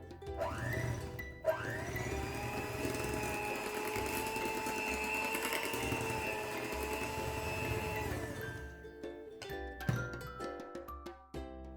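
An electric mixer whirs steadily through chocolate cupcake batter as milk is mixed in, starting in two short bursts, then running for about seven seconds in one sustained motor drone before stopping, followed by a few clattering knocks.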